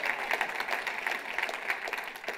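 Brief, steady round of applause from a keynote audience at an organic farming conference, many hands clapping at moderate volume in a large room.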